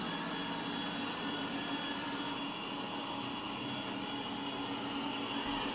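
A Yeedi robot vacuum cleaner runs on carpet, a steady close whirring hum of motor and suction that holds even and unbroken throughout, with no voices.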